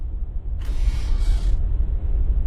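A locker door creaks open in the video game The Raven Remastered: a single hissy creak of about one second over a low ambient rumble.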